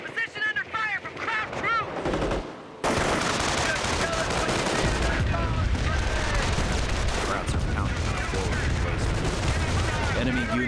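Enemy bombardment and gunfire in the World War II strategy game Company of Heroes, with dense, continuous machine-gun bursts and explosions forming a loud, unbroken battle roar that follows a brief stretch of game voices.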